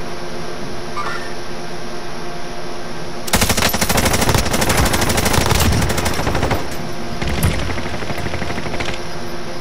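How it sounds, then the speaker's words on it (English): Sudden burst of sustained rapid machine-gun fire in Call of Duty Warzone season 5, loud and rattling for a few seconds before thinning to scattered shots over a steady background hum. "Where you getting shot from?"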